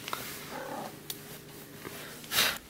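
A sleeping house cat purrs close up in a quiet room, the soft rhythmic rumble broken by a sudden louder rustle or snort near the end.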